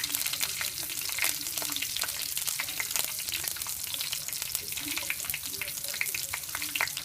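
Steady crackling sizzle of chopped garlic frying in hot sesame oil, with occasional stirring scrapes, close and continuous throughout.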